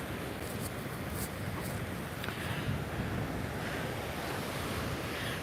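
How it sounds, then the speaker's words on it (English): Breezy morning wind and rolling surf on a Vietnamese beach at sunrise, a soft, steady wash of waves and gusts that stays faint and even throughout, with no voices. "The wind's a bit stronger than it was yesterday. It's quite breezy this morning."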